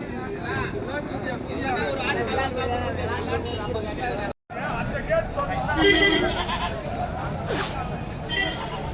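Sheep bleat repeatedly amid a busy roadside livestock market, their cries mixing with a steady crowd babble and people talking throughout.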